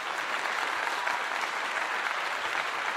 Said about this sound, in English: I want to give you all a great applause.